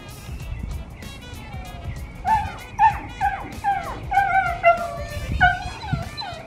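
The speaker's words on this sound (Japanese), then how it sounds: "他にワンちゃんがいるはずお散歩してるから見てますね" Dogs out on a walk near a home in Arizona whine and yip excitedly, giving a quick run of high, wavering yelps that grows busier partway through. The dogs sound fairly close, with faint background noise.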